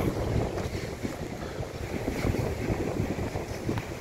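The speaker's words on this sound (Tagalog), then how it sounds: "Lakas ng hangin dito mga katropa." Strong wind buffets the microphone in a steady, low roar for the whole stretch, with no voices.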